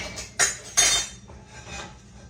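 A sausage pan being handled for washing in a home kitchen, two sharp metallic clanks close together followed by fainter scraping and rattling, near and fairly loud, with no talking.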